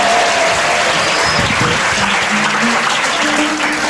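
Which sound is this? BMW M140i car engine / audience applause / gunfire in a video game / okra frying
audience applause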